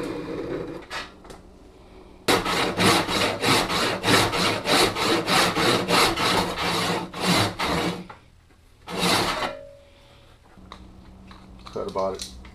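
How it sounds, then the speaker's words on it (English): A hand saw cuts a kerf into a wooden axe handle, producing a run of brisk, evenly rhythmic rasping strokes close to the microphone, with quieter handling noises before and after. "Go ahead and saw this kerf."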